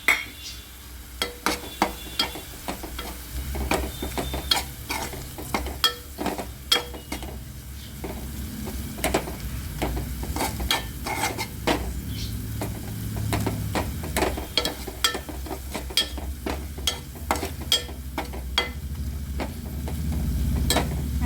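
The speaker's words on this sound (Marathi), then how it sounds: "आपला कांदा भाजून झालेला आहे त्यामध्ये आपला लाल घाटी स्पेशल मसाला आणि शंकरशाही मसाला आपण ॲड करते" Roasted onion frying with red Ghati special masala and Shankarshahi masala for a bombil chutney, a continuous soft sizzle under frequent scraping, tapping spatula strokes against the pan; no talking.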